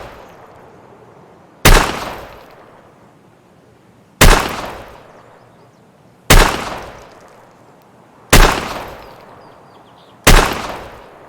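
Rhino revolver gunshots in Escape from Tarkov, five loud, sharp single shots spaced about two seconds apart, each cracking and then trailing off in a short echoing decay, with no talking.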